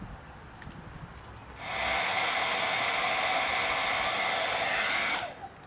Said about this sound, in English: let me just put the hair dryer on here